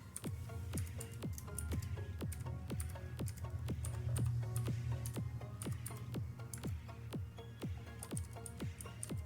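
Someone types an email on a computer keyboard, producing quiet, sharp key clicks in a quick, slightly uneven rhythm throughout, with no talking.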